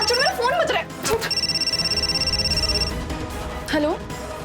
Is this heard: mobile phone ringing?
yes